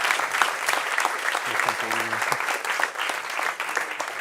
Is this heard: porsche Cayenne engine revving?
no